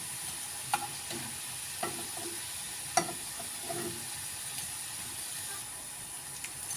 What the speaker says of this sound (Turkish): mantılarımı da kızarttım